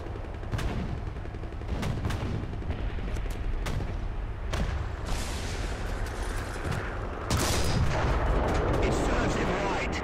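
Tank cannon fire in the War Thunder video game, with repeated heavy booming shots at irregular intervals. The shots land over continuous loud engine and battle rumble, with a louder burst near the end.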